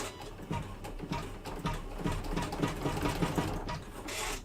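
A machine embroidery unit stitching an in-the-hoop double pocket zip case, its needle producing a rapid steady mechanical clatter, close and continuous, with no talking.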